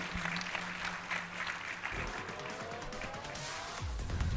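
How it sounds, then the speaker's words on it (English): Applause from an audience at a medical career seminar welcomes the panel moderator, a steady broadband clatter that runs through the whole stretch, with faint low hums and a brief tonal sweep in the background. "Welcome him with a big round of applause, ladies and gentlemen."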